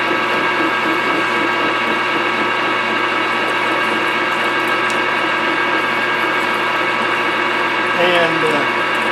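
Continuous mechanical whirring and grinding of a machining operation on a part for a tapping machine build, steady and loud throughout, with a faint voice near the end.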